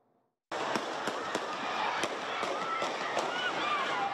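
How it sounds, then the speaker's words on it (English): Gunfire in a news report on a shooting cuts in abruptly after a moment of silence, sharp cracks at irregular intervals over constant crowd noise and commotion. "Gunshots, chaos,"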